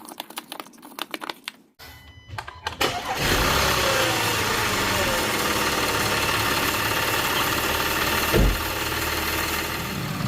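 An Audi 3.2L V6 fires up after major engine repair: clicks and cranking, then a catch into a loud, steady, close idle that holds for several seconds, with one brief thump.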